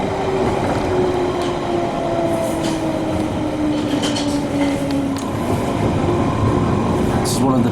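A London Underground Piccadilly Line tube train runs toward South Ealing, a loud continuous rumble with faint squealing wheel tones drifting over the steady rolling noise.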